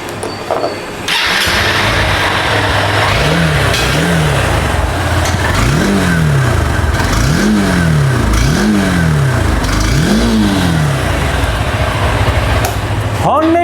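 A used Honda Hornet 2.0 (185 cc, PGM-FI, ABS) motorcycle engine idles and then revs repeatedly in about five rising-and-falling blips, loud and close, with the steady idle between throttle bursts.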